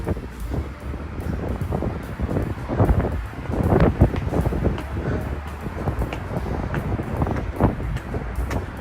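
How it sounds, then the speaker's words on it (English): Gusting wind buffets a microphone outdoors on a walk in Bratislava beside a busy road, a loud continuous low rumble with irregular thumps and bursts of blustering noise throughout. "Wind's getting up now. Hopefully it's not blowing on the microphone too much."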